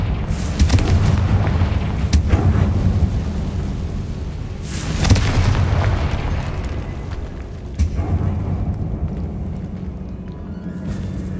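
Rapid blasting-spell explosions from the video game Hogwarts Legacy, deep booming bursts one after another over a dense rumbling game soundtrack, loud and close throughout with heavier blasts around the middle.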